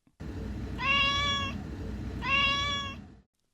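A voice imitates a cat, giving two drawn-out meows about a second apart over a steady low background hum.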